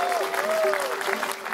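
Audience at an outdoor sea shanty concert in a marina in Głogów giving a steady round of applause, while a voice or sustained sung tone carries over the clapping.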